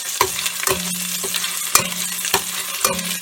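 Onions cook lightly in a Dutch oven with a soft steady sizzle, broken by several sharp stirring knocks and scrapes against the pot at irregular intervals.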